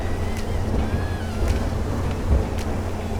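An Iron boat runs on open, wavy sea water during a race. A steady rush of wind and water with a low rumble underneath carries on throughout, with no talking.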